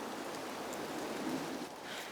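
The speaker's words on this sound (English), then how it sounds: "And it's raining." Steady rain falls in a forest, a soft even hiss of drops with no breaks, alone and continuous.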